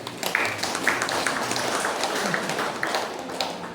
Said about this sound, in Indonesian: Oke, tepuk tangan untuk ibu-ibu.